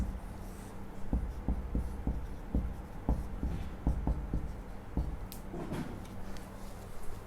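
A pen scratches out a math equation for an integration problem in short, rhythmic strokes and taps. Each stroke is distinct and close, with quiet pauses between marks.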